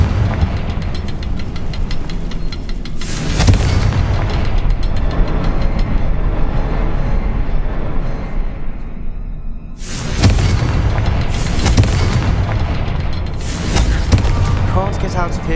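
Spell explosions in the video game Hogwarts Legacy: several loud, sharp booming blasts over a dense rumbling game soundscape, with a voice speaking throughout.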